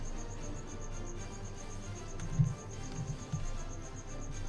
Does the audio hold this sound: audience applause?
no